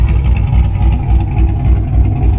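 A 1991 Chevy G20 van with a swapped LS V8 idles and rumbles steadily nearby, a deep continuous engine drone with slight fluctuations and no talk.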